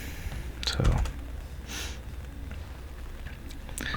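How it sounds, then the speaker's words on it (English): Code typed on a computer keyboard during a programming session, a few quick bursts of key clicks near the mic, with a sniff and low background room sound. "Okay, so we can just type it in."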